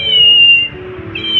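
A toy cat gives out an electronic meow, a thin steady high-pitched tone that holds, dips briefly, then sounds again, fairly loud and close with no talking.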